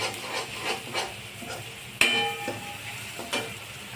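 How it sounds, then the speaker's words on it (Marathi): Tomato sautés in oil with a soft sizzle, broken by repeated spatula scrapes and stirring, plus one sharp metallic clink partway through, fairly quiet and close. "टमाट्याला तेल सुटेपर्यंत परतून घेणे."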